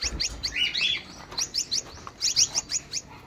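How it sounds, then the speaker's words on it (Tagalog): Pet lovebirds chirp and tweet in quick bursts, high-pitched and lively, several short calls close by with faint background noise. "Ito yung mga ibon ni Sir Chris oh."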